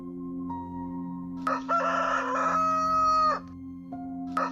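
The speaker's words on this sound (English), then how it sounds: "Then he clucked. Loudly. Uncontrollably." Over a steady low hum, a bird gives one loud, drawn-out squawking call in the middle, with short clucks before and after.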